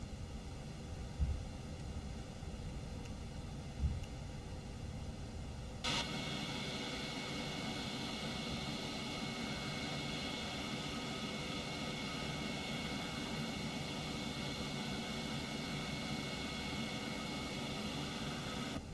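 In the X-Plane 12 flight simulator, an airliner taxis in at Larnaca with a steady, broadband engine hiss that jumps louder partway through and holds constant to the end, with no one speaking.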